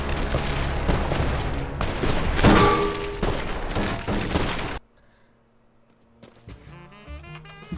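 Loud, close gunfire from snipers in a video game fills the first half in a dense barrage of sharp cracks and booms, then cuts off abruptly, leaving near silence before faint game tones return.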